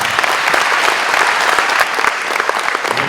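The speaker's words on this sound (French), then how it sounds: "je voudrais vraiment qu'on les applaudisse et qu'on les remercie" A crowd at a New Year's greetings ceremony applauds in thanks, steady dense clapping from many hands across the short stretch, with no voices rising above it.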